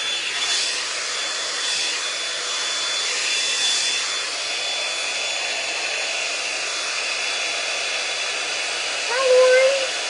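A hair dryer runs steadily while blowing out hair with a L'ange Multi Volume dryer, a continuous close whoosh that swells a little as it moves, with no talk.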